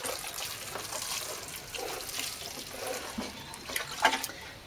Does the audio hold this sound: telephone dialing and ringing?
no